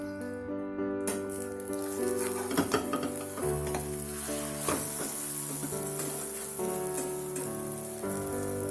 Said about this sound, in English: The eggs are done from one side, so we'll flip it over.